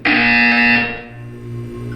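A loud, harsh test chamber buzzer from Portal 2 blares once for just under a second, then gives way to a quieter low hum.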